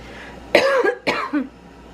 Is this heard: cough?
yes